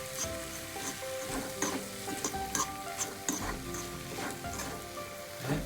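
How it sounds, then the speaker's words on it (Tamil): Squid sautéing in a pan with turmeric and grated garlic and coconut, a steady close sizzle broken by the scrape and clatter of a spoon stirring in irregular bursts. "மஞ்சள், வெள்ளைப்பூண்டு துருவலை சேர்த்துக்கிறோம். நல்லா வதங்கி கொடுக்கணும்."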